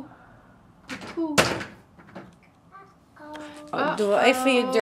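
A door swings shut with a solid thunk indoors, one clear impact partway through, while a woman and a small child chatter around it.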